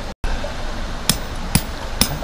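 A vibration-free mallet drives tent pegs while a Durango Mini tent is pitched outdoors, giving three sharp, evenly spaced strikes near the microphone against a low background.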